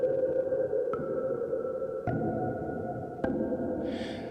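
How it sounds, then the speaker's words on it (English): Tuned finger taps from a flute sample library, three sharp taps at even intervals, each over a sustained, reverberant flute-like tone, with a brief breathy burst near the end. "these finger taps are actually tuned to each note"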